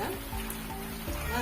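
Steady rain falls outdoors in a constant broadband patter, close and even throughout, with no voices.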